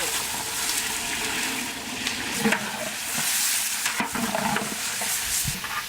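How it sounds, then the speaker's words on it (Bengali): Mutton pieces frying in hot ghee for Bengali kabli polao, a loud, close sizzle with scraping stirs and bubbling that keeps on for the whole stretch, with no voices. "এই ঘি দিয়ে আমরা এই মাংসটা ভাজিয়ে নেবো"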